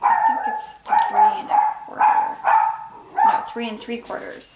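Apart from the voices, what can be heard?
dog barking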